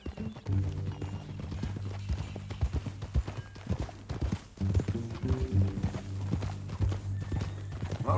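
Horse hooves clip-clop steadily in Red Dead Redemption 2 at an easy riding pace, with a continuous low tonal hum underneath and a brief whinny-like sound among the close, even steps.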